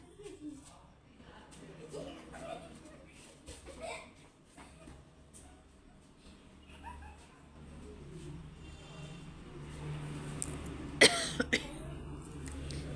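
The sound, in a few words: coughing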